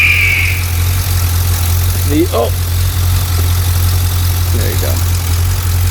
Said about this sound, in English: The Corvette LS7. Stock.